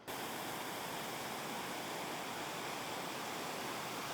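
A low river keeps moving along a Pacific Northwest hiking trail near East Baker Lake, its steady broadband rush of water running close and unbroken with no voices.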